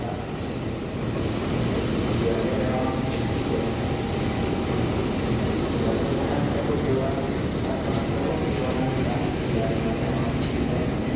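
A Menoreh passenger train hauled by a CC 201 diesel locomotive from the Purwokerto depot runs at night, with a steady loud rumble and regular clicks of wheels over rail joints, and a voice talks over it.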